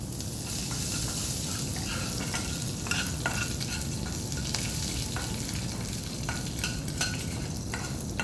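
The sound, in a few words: curry leaves sizzling in hot oil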